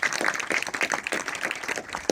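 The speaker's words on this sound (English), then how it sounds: "let's get a round of applause there." A round of applause from a live audience at a Spider-Man: Across the Spider-Verse panel talk, steady dense clapping throughout, fairly close and continuous.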